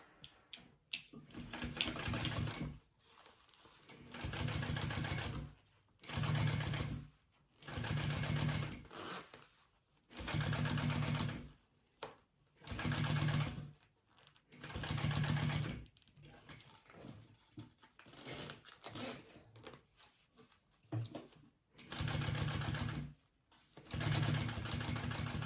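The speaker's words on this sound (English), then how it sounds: "now I'm just gonna go ahead and continue to sew this all together and baste my two pieces together." A sewing machine bastes two fabric bag pieces together for a crossbody bag, running in repeated steady bursts of rapid stitching separated by short pauses. The machine sounds close and moderately loud throughout.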